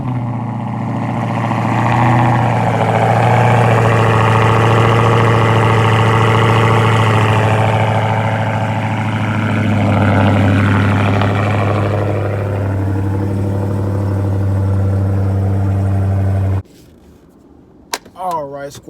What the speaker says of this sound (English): So let's go ahead and get this cold start done for you guys.